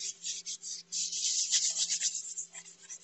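Paper towel rubbed over a pencil drawing in a sketchbook, a soft, close, steady scrubbing in repeated circular strokes.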